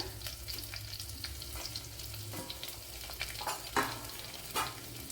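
Chopped onion (a small medium-sized one) sizzles and fries in a pan while being stirred, a soft steady crackle with occasional scraping stirs, faint and close, no talk.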